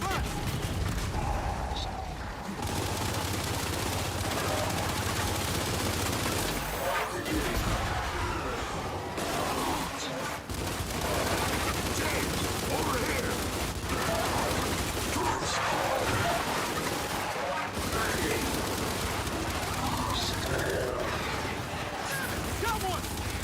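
Dense, continuous gunfire in a combat video game, with bursts and booms layered into a constant loud barrage throughout.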